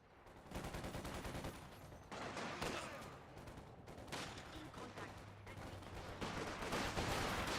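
Sniper rifle shots ring out in Company of Heroes 2 amid a dense, continuous battle din of gunfire and explosions, loud and sustained, with a low rumble underneath throughout.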